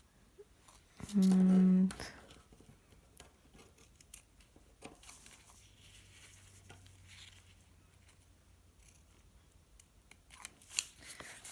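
Scissors snip around the edges of an acrylic pour craft piece, a series of small crisp cuts and rustles up close, with a brief loud tone early and a voice speaking.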